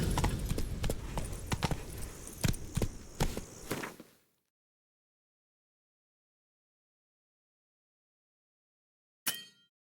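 Geralt's horse Roach in The Witcher 3: Blood and Wine clops along in a quick, close, even rhythm of hoofbeats for about four seconds, then stops; a short clatter follows near the end.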